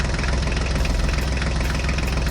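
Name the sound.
toy tractor engine starting and idling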